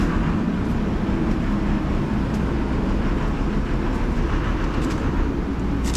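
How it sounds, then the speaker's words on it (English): A Baker resaw in a sawmill, set up for cutting beveled siding, runs with a loud, steady mechanical roar and hum that holds even throughout, with no one talking. "This back here is a Baker Resaw."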